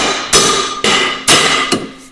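A hammer drives wheel studs into a 1967 Mopar Barracuda with four loud, ringing metallic strikes, evenly spaced about half a second apart. The blows are close, and each one leaves a brief metallic ring.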